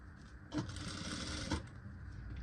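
A sewing machine stitches a princess-cut blouse, running in a short, faint burst of about one second over a low hum.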